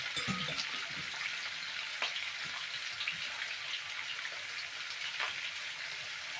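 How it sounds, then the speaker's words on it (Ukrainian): Food fries uncovered in a hot pan, sizzling and crackling steadily with a constant hiss broken by occasional pops, with no talking. "а воно смажиться."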